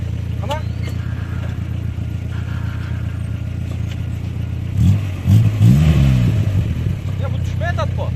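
A 1992 Volkswagen Golf 3 engine idles with a steady low drone, then revs up in a few rising surges as the car pulls away, with voices talking over it.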